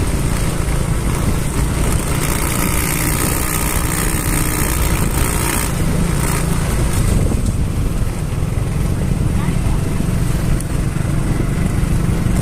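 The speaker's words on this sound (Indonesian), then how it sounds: "kita di atas motor sambil berjalan menuju ke pasar" A motorcycle engine drones steadily at a close, even level while riding along on the way to the market, with continuous road and wind noise and no speech.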